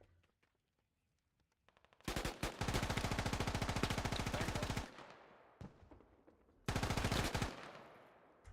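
Heavy automatic gunfire rips through a match of the tactical shooter game Squad in two long, loud, rapid bursts, with single shots and quieter stretches between them.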